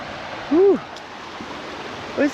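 A river in the Victorian High Country rushes along nearby as a steady, even wash of flowing water, with a few short bird-like chirps rising above it.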